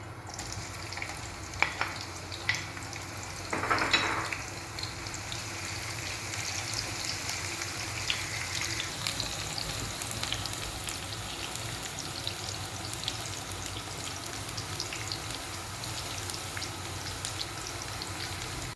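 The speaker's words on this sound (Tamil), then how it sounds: "அதை அதில் போட்டு நம்ம அதை நல்லா வதக்கி எடுத்துக்கலாம்." Cut onion sautés in oil in a pan while ghee rice is being made, a soft, even sizzling crackle close by with light stirring scrapes early on, continuing steadily with no voices.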